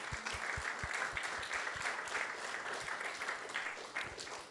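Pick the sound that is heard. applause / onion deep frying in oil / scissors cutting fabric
applause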